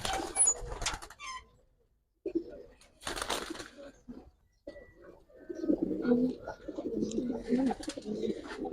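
Giribaz pigeons, a Bengali flying breed, coo at a loft in a series of low, throaty calls that grow fuller and steadier toward the end, with brief rustling and pauses in between.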